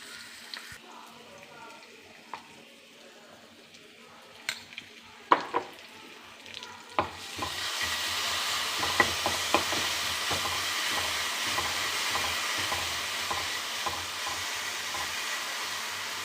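Boiled raw plantain with turmeric is stir-fried in a pan for a Kerala mezhukkupuratti. Quiet clinks and taps come first, then a steady, close sizzle begins around seven seconds with scattered stirring scrapes through it.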